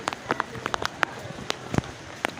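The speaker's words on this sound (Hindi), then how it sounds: "आपको टिप टिप की आवाज़ें आ रही होंगी बारिश की" Rain falling as scattered, irregular drips and taps close by, with soft patter in between.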